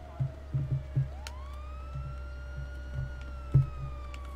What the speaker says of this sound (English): oh my god, there's a fire engine!